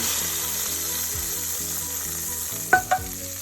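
Garlic frying in oil for whole brown lentil masoor dal, a steady close sizzle with stirring, then two short louder scrapes of a spoon against the pan near the end; no talking.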